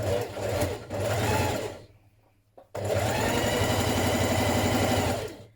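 A sewing machine stitches the back seam of a New Look 6483 blouse, running steadily in two bursts with a short pause between them, close and loud with no talking.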